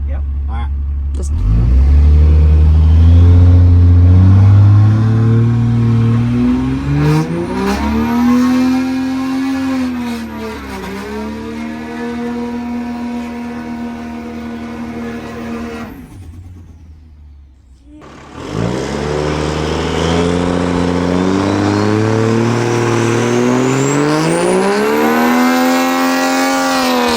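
Truck engine on a dyno, revving hard and holding a deep, loud drone that rises and falls in pitch, cutting out briefly before roaring back up, with people talking over it.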